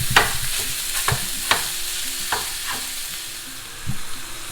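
Italian sausage for a sausage pie fries in a pan with a continuous close sizzle, while a utensil stirs and scrapes it in several sharp, irregular knocks.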